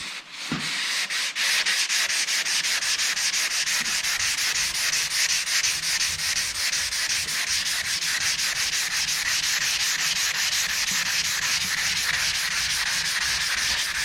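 Primer on a Z28 car body is block sanded by hand in close, continuous rasping strokes with a fast, even back-and-forth rhythm that carries on steadily throughout, with no talking.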